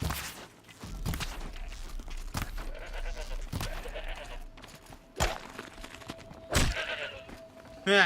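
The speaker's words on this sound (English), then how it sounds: "I hear a goat." Goat bleats in Horizon Zero Dawn: The Frozen Wilds, a few short cries scattered across the scene amid light hoof scrabbling and game ambience.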